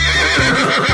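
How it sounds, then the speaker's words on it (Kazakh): A horse gives a brief, loud whinny, a single quavering neigh lasting about a second, with no talking. "Дұрыс, бұл жылқы."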